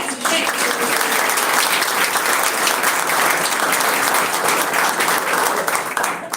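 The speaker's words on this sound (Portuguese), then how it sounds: "Eles merecem uma salva de palmas, não merecem, gente?" Audience at a Brazilian spiritist congress event bursts into sustained, loud applause, a dense wash of many hands clapping for the full stretch, with voices faintly mixed in.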